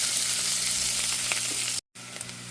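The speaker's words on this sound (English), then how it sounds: "The bacon is mostly cooked, and I'm adding the onions." Bacon and onions frying in a pot for chowder: a dense, steady close sizzle with faint stirring bumps, broken by a brief silent gap before the hiss resumes, no voices.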